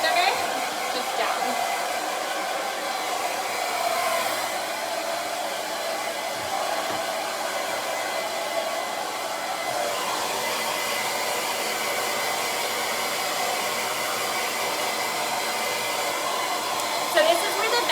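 Steady, unbroken roar of a hair dryer blow drying hair, close and constant, with slight changes in airflow tone as the nozzle is angled, and no voices.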